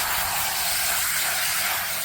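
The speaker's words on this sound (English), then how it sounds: "I'll take the hose and just kind of spray this out really quick." A garden hose sprays water to rinse out an above-ground pool vacuum, giving a steady, close, unbroken hiss of spray running alone for the whole stretch.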